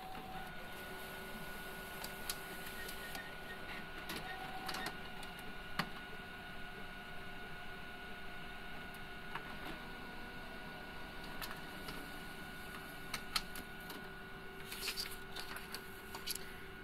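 An HP LaserJet Pro MFP M476dn, a fairly new office multifunction printer, runs a black-and-white copy job with a steady mechanical hum and whir, broken by light clicks and ticks of the paper feed.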